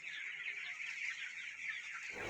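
A flock of broiler chickens on a poultry farm in hot weather keeps up a dense, continuous chorus of high cheeping and clucking, moderately loud and close, with no talking.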